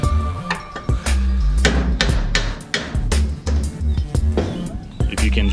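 A hammer strikes a nail in a lawn care trailer floor, giving repeated, irregular sharp knocks that sit among loud, busy background noise while people talk.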